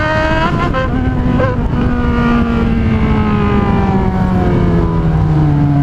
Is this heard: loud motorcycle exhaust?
yes